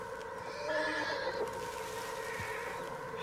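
A horse whinnies in Red Dead Redemption 2, a drawn-out neigh over steady game ambience with light hoof clip-clop, moderately loud, with no talk over it.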